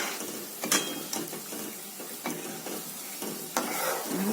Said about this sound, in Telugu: మెల్లిగా కలుపుతుంటే దగ్గరకు వచ్చేస్తుంది పిండి